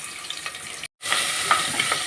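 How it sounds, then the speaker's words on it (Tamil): Green chillies, cloves and small shallots sauté in hot oil in a pan, giving a bright, continuous close sizzle broken by a brief moment of silence before the frying resumes. "இதெல்லாம் நல்லா வணக்கிக்கலாம்."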